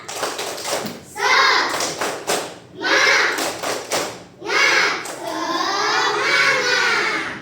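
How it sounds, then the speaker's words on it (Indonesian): Children in a Hindu religion class for second graders do the tepuk semangat spirit clap, rhythmic bursts of hand claps and thumps in patterned groups, with a teacher and children chanting along loudly between and over the claps. "Kalau itu mana tepuk semangatnya? Tepuk semangat!"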